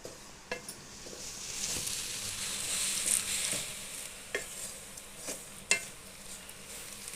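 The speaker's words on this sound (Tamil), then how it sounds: "இப்போ என்ன பண்ணுறோம், இதை ஊற்றி கலக்கணும்." Boiled jaggery syrup is mixed into ragi flour for kozhukattai, giving soft, close stirring and scraping with scattered light taps against the bowl.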